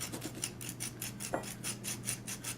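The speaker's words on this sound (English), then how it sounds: "my file is flat across the piece, and I am just rubbing" A flat file rubs back and forth across a silver piece in quick, even rasping strokes, about a dozen close and soft, with a faint tonal hum beneath.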